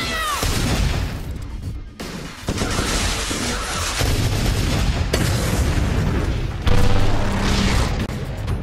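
Loud booming weapon blasts and explosions from the online arena game Atlas Reactor, several dense bursts packed together over a continuous layered game mix with no speech.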